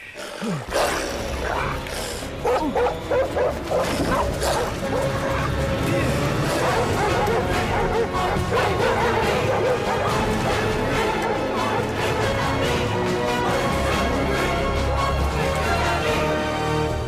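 Dogs bark and yip in an action comedy movie scene, with repeated sharp barks and some whimpering over busy background sound, mixed with people talking throughout.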